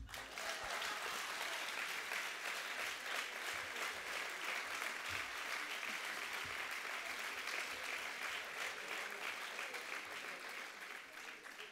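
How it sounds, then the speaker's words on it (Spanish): An audience at a socialist political rally in Donostia breaks into sustained applause, a thick, even roar of clapping from a large crowd that carries on at full strength for several seconds with no speech over it. "Aplausos"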